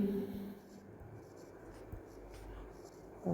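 A pen or chalk writes during a physics lesson on electrostatics, producing faint, quiet scratching strokes in a hushed room after a brief moment of the teacher's voice.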